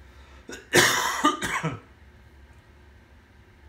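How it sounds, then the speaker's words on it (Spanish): A single harsh cough followed by a couple of shorter throat-clearing coughs, close and loud, then quiet. "Perdón que tengo un poco de tos."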